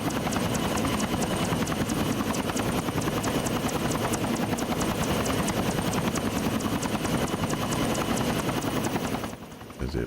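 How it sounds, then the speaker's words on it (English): A helicopter in the video game Arma 3 drones steadily with a dense rotor chop and a loud engine roar that fills the clip, then drops off abruptly at the very end. "it definitely makes the chopper sound a whole lot more reasonable"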